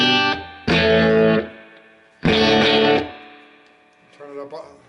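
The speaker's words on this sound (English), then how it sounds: "An Accutronics reverb is probably going to sound pretty decent as long as it has a good loop going through it." A PRS SE Custom 24 electric guitar plays through a Crate 1R Vintage amplifier with Accutronics spring reverb. Two loud strummed chords ring out and decay into reverb, followed by a faint, quieter strum.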